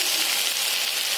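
Steady, even sizzle of chowmein frying in a pan at home, a close hiss that stays constant from start to finish with no voices.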